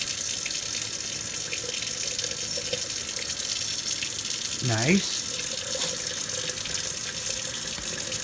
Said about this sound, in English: Twirling it while we pour the excess water out.